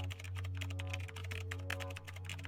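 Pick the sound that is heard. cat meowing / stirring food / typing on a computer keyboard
typing on a computer keyboard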